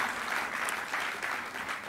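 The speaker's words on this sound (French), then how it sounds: "On peut applaudir quand même les SR Colmar" Audience applause at a French football awards ceremony, the 7e Trophées du football alsacien at the Royal Palace, in honour of SR Colmar: a steady, dense wash of clapping from a large crowd, sustained and fairly loud throughout.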